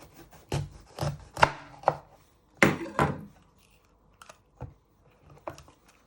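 A knife cuts the top off a pepper on a chopping board in a series of sharp, irregular knocks against the board, some clustered quickly, others spaced apart, close and clear with no talking.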